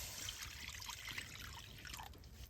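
Coconut milk trickles and drips steadily as grated coconut is squeezed by hand for homemade coconut oil, a faint, close, continuous wet patter.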